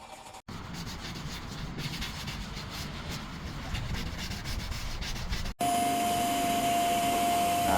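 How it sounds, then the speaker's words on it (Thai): Vacuuming dust from the interior of a used car, a steady close rushing suction with rubbing scrapes across upholstery, briefly cut twice, then turning into a brighter constant drone with a faint whine. "เริ่มดูดฝุ่นเกล็ดภายใน"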